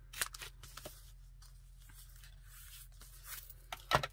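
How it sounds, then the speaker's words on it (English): Scissors snip a small corner off an old painting for a junk journal cover, giving a few faint, quick crisp cuts and rustles against a quiet room hum. "I just have to cut off this little corner here."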